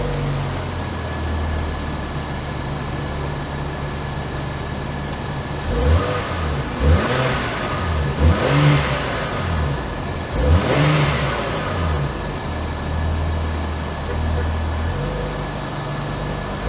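A 2022 Acura MDX Type S SUV accelerates on the road with its engine rising in several surges over steady cabin road noise, the revs climbing and falling between shifts, heard from inside without talk.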